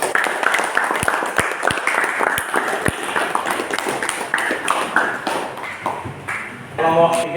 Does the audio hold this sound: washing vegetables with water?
no